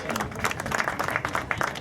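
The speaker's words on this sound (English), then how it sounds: "Big round of applause." Audience applause at a golf team presentation for the Sladmore Trophy, a dense patter of many hands clapping together at moderate distance with no talk over it.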